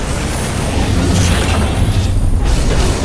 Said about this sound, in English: the siege tanks are sieging up over here